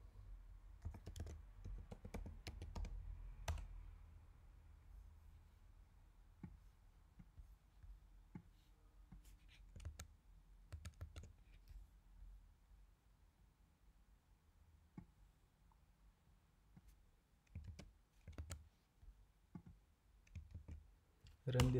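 Scattered key clicks from a computer keyboard as a command is typed into a terminal, irregular taps and short bursts at close range against a quiet background with no talking.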